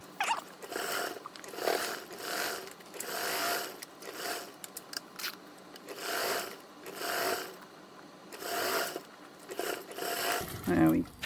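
A sewing machine stitches a quarter inch seam in repeated bursts of quick, rattling mechanical whirring, each lasting about a second with short pauses between, fairly quiet and close.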